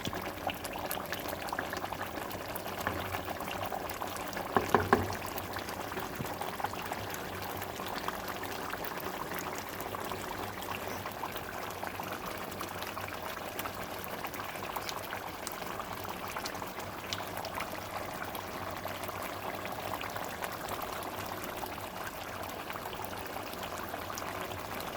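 Liquid boils off in a pan of chicken on high heat, bubbling and sizzling steadily with a constant busy hiss throughout, with a brief clatter near the start.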